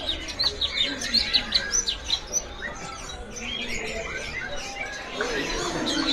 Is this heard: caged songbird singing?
yes